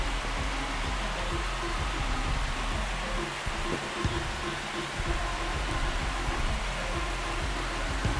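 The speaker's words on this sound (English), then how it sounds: "This crowd has really come alive." Stadium crowd noise during a Braves vs Phillies game in MLB The Show 26, a loud, steady roar of fans that barely dips, with a few low thumps near the middle.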